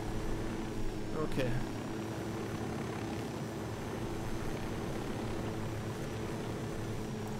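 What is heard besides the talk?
helicopter in Ghost Recon Wildlands video game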